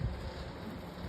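Breezy wind rushing past a snowboarder's microphone on the Keystone ski mountain in Colorado, a steady low buffeting roar filling the whole moment with no voices.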